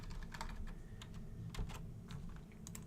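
Quiet, close typing on a computer keyboard as a form field label is entered, a steady run of light key clicks in uneven rhythm over roughly three seconds, alone without speech.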